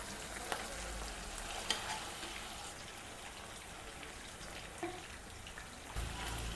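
Chicken lollipop pieces sizzle in a pan as green chilli and soy sauce are stirred through, giving a steady, moderately quiet frying hiss with a few faint scraping clicks and no voices.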